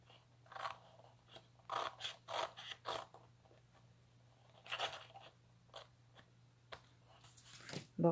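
Scissors trim excess paper from a sheet of grey Design Lavis series paper, making a series of close, crisp snipping and crunching bursts with short pauses between cuts.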